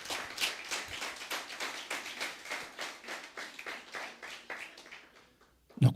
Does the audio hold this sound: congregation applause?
yes